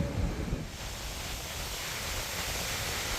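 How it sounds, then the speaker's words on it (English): Wind buffets the microphone, a constant rushing roar with heavier low gusts at the start. "Sorry if it's a little windy"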